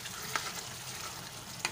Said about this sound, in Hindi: ब्लैक पेपर को हम इसमें चला लेंगे बिस्मिल्लाहिर्रहमानिर्रहीम और इसको थोड़ा सा भून लेंगे